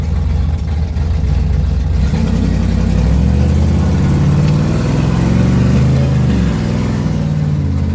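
A custom-built car, four years in the making, revs loudly and close by without talk, its deep engine roar holding steady, then rising and swelling in pitch through the middle before easing slightly.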